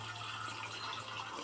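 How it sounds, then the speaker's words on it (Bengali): Water pours steadily into a rooftop water tank, a continuous close rush with no breaks and no talk. "দেখো জল এসে গেছে, তো জল পড়ছে দেখো"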